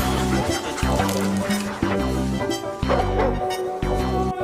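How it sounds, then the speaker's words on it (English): A dog barking sound effect in a TikTok fan edit yaps repeatedly in short, evenly spaced bow-wows over a steady musical backing. "Sung Hoon became a dog."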